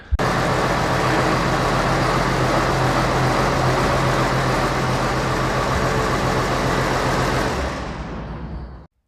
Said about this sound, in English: I'm going to start the tractor up and turn the tires all one direction